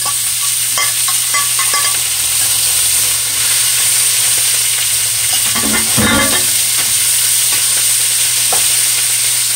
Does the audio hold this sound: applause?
no